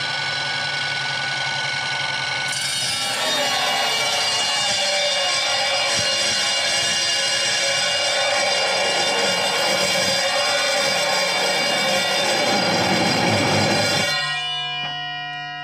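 A speed-controlled miter saw cutting steel bogs down under load, its whining motor running a steady high-pitched drone with harsh grinding for about fourteen seconds before it cuts off and spins down.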